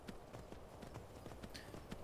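Horse hooves clip-clop at a steady walking rhythm in the Skyrim video game, repeated regular thuds at moderate distance, carrying on alone without talk.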